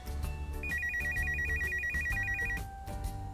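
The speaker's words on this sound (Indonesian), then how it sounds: "Ada suara telepon." Electronic telephone ringtone trilling in rapid warbling pulses for about two seconds, heard over a busy background of music and other sounds.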